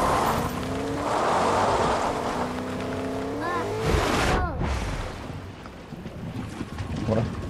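Car engine revving and shifting in the Fortnite video game, a loud, steady motor drone with rising whines and a splashy burst near the middle, as if the vehicle hits water.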